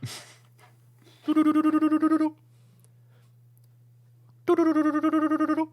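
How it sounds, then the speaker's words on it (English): A phone rings with an incoming FaceTime call: two short bursts of bright, rapidly pulsing tones separated by a couple of seconds of quiet, close and clear, with a faint steady hum underneath. "Someone's calling me."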